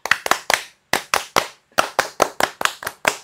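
A single person performing the Pramuka scout rhythmic clap, sharp, loud, close hand claps in a patterned sequence of quick groups separated by short pauses.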